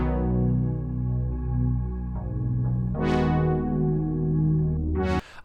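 Layered 80s-style pop instrumental with steady bass, sustained synth and brass chords, and a melodic lead, playing continuously and fairly loud, with a rising sweep near the middle before cutting off abruptly at the end.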